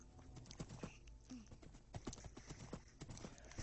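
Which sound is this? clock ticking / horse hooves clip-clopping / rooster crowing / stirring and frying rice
horse hooves clip-clopping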